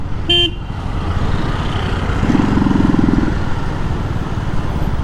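A modified KTM Duke 200 motorcycle rides along, its engine giving a steady, fairly loud drone, with a short horn-like toot near the start and a rougher surge in the middle.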